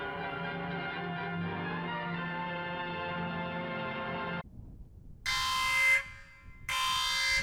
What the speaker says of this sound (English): I can't believe they have an alarm system.